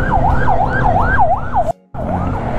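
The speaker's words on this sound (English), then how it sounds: "Oh, another ambulance?" A wailing ambulance siren rises and falls steadily over heavy Philippine traffic and scooter engine noise, cutting out briefly before the wail resumes.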